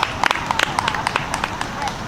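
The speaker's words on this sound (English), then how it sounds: "everybody give Thomas a big round of applause" An audience at a magic show claps a big round of applause for Thomas, producing dense, fast, close-up clapping with scattered sharper slaps and voices mixed in.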